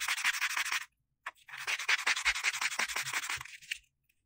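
Earring blanks are rubbed with a block or sandpaper in quick, rhythmic strokes, heard close and alone: a scratchy burst, a brief pause, then a longer run of steady back-and-forth sanding.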